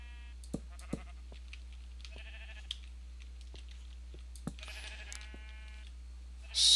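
Sheep in the Minecraft video game bleat in short, faint calls over a quiet steady hum, scattered across the stretch with soft clicks between them and a louder burst at the very end.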